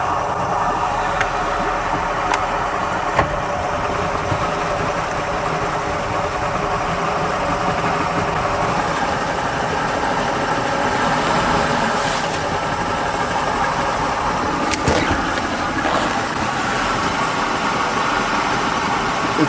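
A Starcraft boat engine runs in forward gear with a steady, close mechanical drone and vibration, holding constant with a few brief clicks and knocks.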